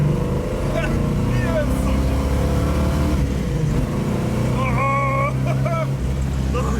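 A Shelby GT500 tribute car's engine drones loudly, then blips and revs as the driver downshifts, with the rising and falling engine note clear throughout while someone talks over it.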